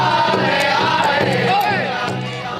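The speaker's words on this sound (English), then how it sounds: "A crowd of people showed up in downtown Sioux Falls Monday for Native Americans" Crowd gathered in downtown Sioux Falls for a Native Americans Day parade on Phillips Avenue, a steady outdoor murmur of many voices with occasional shouts, moderately loud and continuous.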